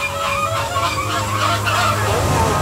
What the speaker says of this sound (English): we cannot come to SeaWorld Orlando without saying hello to our pink chickens